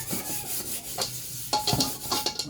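A cooking pot is scrubbed clean while being washed, giving rough, rasping strokes that repeat in an uneven rhythm, close and fairly loud.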